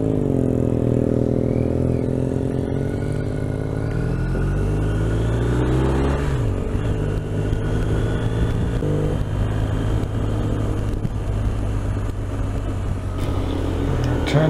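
BMW R 1250 RT motorcycle riding along a road in Surrey with a Triumph T100, its engine drone steady and close beneath constant wind rush, with pitch shifts as it changes speed.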